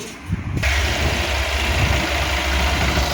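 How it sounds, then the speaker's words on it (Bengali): A Yamaha R15 motorcycle with a faulty self-starter and exhaust sound fires up with a brief cranking burst, then settles into a steady, close, loud idle with a low rumbling throb. "এখন গাড়িটা স্টার্ট করব"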